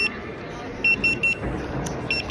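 A short electronic alarm in a shop gives a few high, evenly spaced beeps, repeated in a brief burst over steady ambient store noise.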